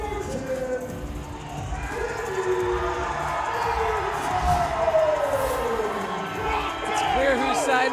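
A wrestling crowd at a Juggalo Championship Wrestling event cheers and shouts in a loud, sustained roar with rising whoops, as an announcer talks over it.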